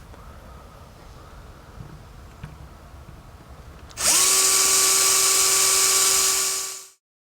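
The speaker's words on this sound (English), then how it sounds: "it is a little bit scary drilling into the trunk lid" Power drill boring into the trunk lid of a Honda Goldwing GL1800, a sudden loud, high whine that starts midway after quiet room noise, holds steady for about three seconds, then winds down.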